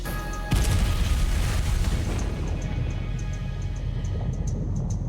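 TNT demolition charge detonating near a cliff top with a sudden deep boom, followed by a sustained heavy rumble that slowly fades, loud and carrying across open ground.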